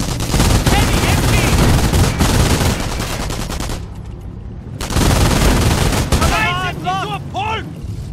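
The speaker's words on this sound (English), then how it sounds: "MG under fire! Heavy MG!" Heavy machine gun fire rattles in the WW2 strategy game Company of Heroes, dense rapid bursts with booming impacts, a short lull in the middle, and shouted voices over the battle.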